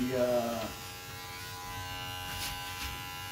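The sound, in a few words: rechargeable electric hair clipper running during a haircut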